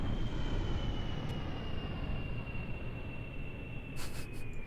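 A plane's engine in Kerbal Space Program roars as a steady, broad rush with a faint whine slowly sliding lower, loud and continuous throughout.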